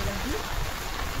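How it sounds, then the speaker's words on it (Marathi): Rain falls steadily on a village lane during a heavy monsoon day, a faint, even hiss of drops with no voices. "पाऊस भरपूर आहे, सकाळपासून जरा जास्तच झालाय."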